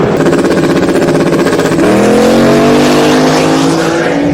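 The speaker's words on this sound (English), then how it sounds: "The Camaro off the starting line first." A Camaro drag car launches off the starting line with a loud, close engine roar that climbs steadily in pitch as it accelerates away, the track noise filling the whole moment with no talking.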